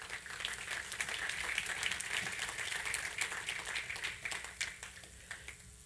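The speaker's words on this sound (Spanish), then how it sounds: "Den un aplauso al Señor" A church congregation applauds during a sermon, with many hands clapping in a dense, moderately distant roar that thins out toward the end.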